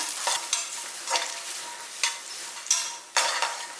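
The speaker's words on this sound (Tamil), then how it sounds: "தேங்காவை இந்த அளவுக்கு நெய்யில் வந்து வதக்கிட்டோம்" Grated coconut frying in ghee for temple-style sweet pongal, with soft continuous sizzling broken by several distinct scraping and clinking strokes of a spoon stirring in the pan, close and with no talking.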